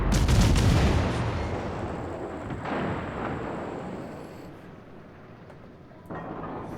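Battleship guns fire in World of Warships, with a heavy close boom at the start that rolls away into a long rumbling tail, followed by a softer second impact and another thud near the end.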